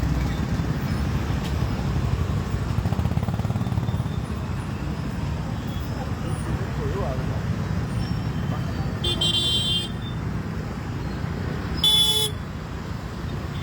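Congested road traffic at Manakkad junction, a steady rumble of idling and creeping vehicles with two sharp horn blasts near the end, close and fairly loud, with indistinct voices in the mix.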